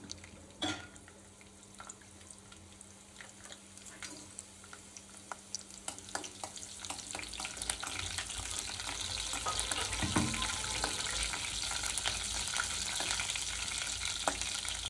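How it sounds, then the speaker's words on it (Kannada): Chopped onion and mustard seeds frying in hot oil, a steady close sizzle that grows louder and denser over time, with occasional clinks and stirring from a utensil and no one talking. "ಈರುಳ್ಳಿ ಸೇರಿಸ್ಕೊಳ್ಳೋಣ."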